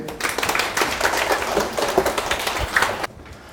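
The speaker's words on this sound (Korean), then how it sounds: "박수 한번 주세요" Audience applause at a PSAT exam strategy information session at a law academy, a brisk burst of clapping from a room of attendees that stops abruptly near the end.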